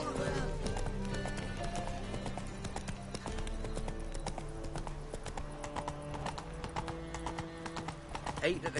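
Hooves of the horse Roach galloping in The Witcher 3, a fast rhythmic clatter running continuously under game music, with a voice speaking over it.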